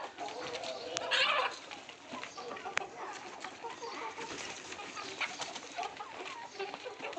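Desi gavran chickens on a farm cluck and call faintly and intermittently amid a busy background, with one brighter squawk near the start.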